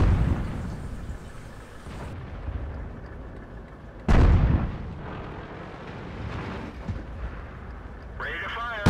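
Artillery fire in World of Tanks on the Malinovka map, with several heavy booms, one very loud close blast midway, and rumbling aftermath, while a commentator talks over it.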